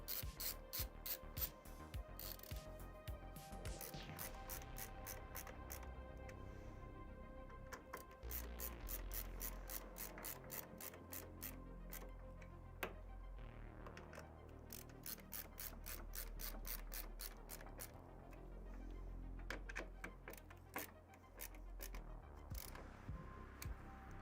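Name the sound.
tightening screws while building a PC in NZXT H5 Flow case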